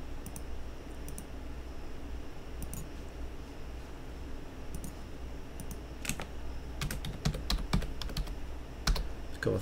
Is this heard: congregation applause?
no